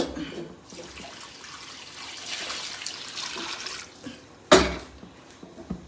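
Cooled boiled water poured into a pan while making a mango seed pickle, a steady liquid splash for several seconds, ending with a sharp clatter.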